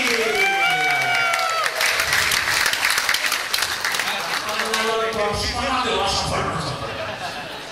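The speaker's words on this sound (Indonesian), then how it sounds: "Tepuk tangan yang luar biasa untuk Mbah Asrori." Audience applause for Mbah Asrori at a Sedekah Rombongan anniversary gathering, dense and sustained clapping from a large crowd that fills the whole stretch, with voices and brief tonal sounds mixed in early on before the clapping slowly thins.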